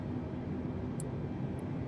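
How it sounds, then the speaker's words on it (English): Airbus A320 engines in Microsoft Flight Simulator 2020 spool up as a steady, broad roar, even in level throughout, with a couple of faint high tones near the top. "I think our engines are coming up."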